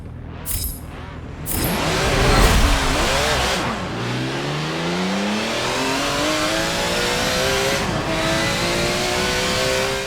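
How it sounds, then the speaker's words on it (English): A Porsche race car in a Forza Motorsport 7 drag race, its engine revving hard with tire spin before climbing through the gears in long, rising sweeps that stay loud and close throughout. "So we're getting way too much tire spin, so that's why I downshifted"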